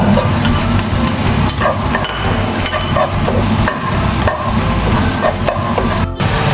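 Garlic and onion sauté in a hot pan for lumpiang togue, giving a loud, steady sizzle broken by scraping stirs of a utensil, with no voices.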